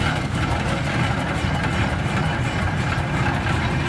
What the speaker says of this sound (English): It's a Fowler traction engine